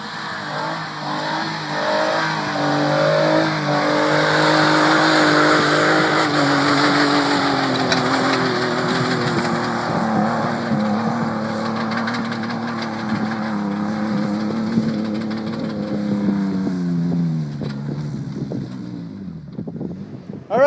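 An off-road vehicle on G2 Core 44 axles climbs a rocky hill in second gear, its engine droning loud and close for a long stretch, pitch slowly sagging under load with wind buffeting, ending in a short rough knock.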